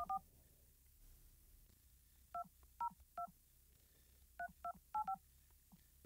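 Telephone keypad DTMF tones from dialing a number on a private phone system: a quick beep, a pause, then a series of short, evenly spaced clear tones in small groups, close and isolated over quiet background hiss.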